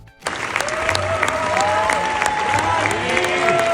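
Sustained applause from a film festival crowd giving a standing ovation after a screening of Pedro Almodóvar's The Room Next Door, dense and loud throughout, with faint tonal whistles or cheers riding over the clapping.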